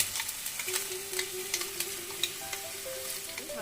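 Onion paste for mutton rezala fries in a pan with a low, even sizzle. Light rhythmic stirring taps come through close up, and a faint tonal hum sits underneath. No one speaks.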